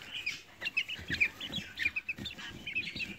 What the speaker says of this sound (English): So these are only 2 weeks old, these quail.